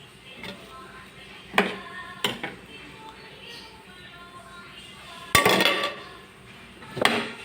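Metal pot lid set down on a cooking pot of Filipino patola and miswa soup, giving a few sharp clinks and clanks at irregular intervals, near and moderately loud, amid faint kitchen background.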